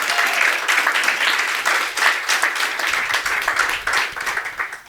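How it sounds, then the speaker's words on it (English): An audience at a keynote speech breaks into sustained applause, a dense wash of many hands clapping that holds steady for several seconds before starting to thin out. "Can we just actually give a round of applause for that?"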